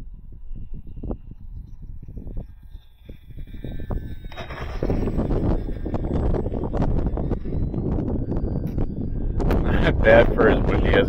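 Wind buffets a microphone at an RC warbird flying field during an Arrows Bearcat landing. Low rumbling gusts build and grow stronger toward the end, with a person talking faintly under the noise.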